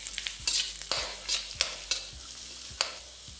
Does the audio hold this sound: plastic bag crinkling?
no